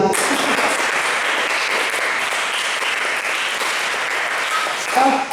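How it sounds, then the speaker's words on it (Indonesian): A youth service group claps on command at an indoor gathering, a dense wash of many hands filling the room for several seconds, with children's and adult voices mixed in beneath it. "Tepuk satu 5 kali"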